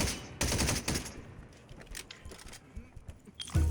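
Gunfire while hanging from a ledge in the video game Hawked, a dense string of shots in the first second followed by scattered sharper reports, loud and near, with faint game noise underneath.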